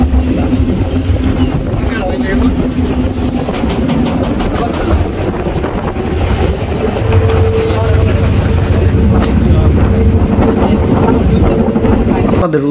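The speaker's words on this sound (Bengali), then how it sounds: "এই যে দেখতে পাচ্ছেন আমাদের বোটটা আসছে।" A motor boat arrives on Tanguar Haor in Sunamganj, its engine droning steadily and loudly close by while people talk over it.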